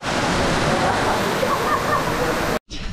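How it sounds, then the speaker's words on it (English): Canto Lampo waterfall in Bali rushing loudly and steadily as broadband roar close by, cutting out abruptly near the end before resuming. "this Canto Lampo waterfall. Very popular."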